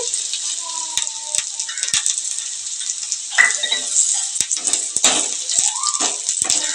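Dried red chillies and fenugreek seeds frying in hot oil for a village-style drumstick dal, a steady close sizzle with occasional stirring scrapes and light clinks, no talking.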